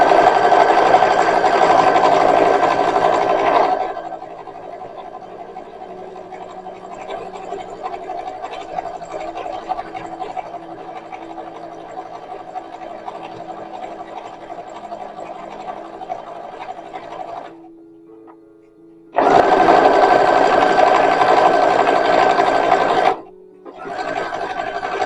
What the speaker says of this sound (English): We're going to start by sewing the bag right sides together, or the outer bag.